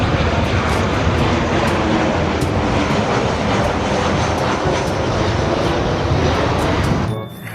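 A toy airplane gives off a steady, loud jet-like roar that holds evenly for about seven seconds before cutting off abruptly, close up with no talking.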